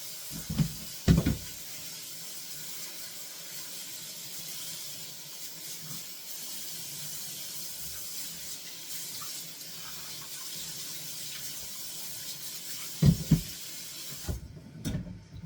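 Tap water runs steadily into a sink for rinsing rehydrated potatoes, a soft constant hiss broken by a few clunks near the start and the end.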